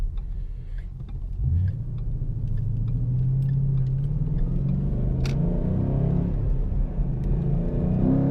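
A Ford Mustang GT engine pulls hard, a deep rumbling roar that climbs steadily in pitch through the revs, loud and close from inside the car on a tree-lined road, with a brief higher tick partway through.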